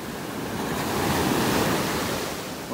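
Ocean surf at a beach in North Naples, Florida, on a rising tide: a steady, full roar of breaking waves mixed with wind buffeting the microphone, swelling slightly in the middle, with no voices.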